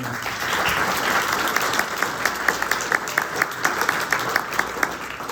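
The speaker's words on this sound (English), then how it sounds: "You can give a round of applause for them." Sustained audience applause for graduate student participants at a Division 15 business meeting, a dense steady clapping from a large crowd that holds at an even level throughout with no voices on top.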